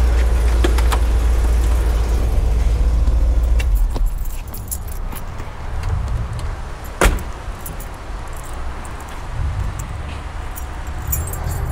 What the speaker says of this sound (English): So I'm going to take the keys out so I can show you the trunk.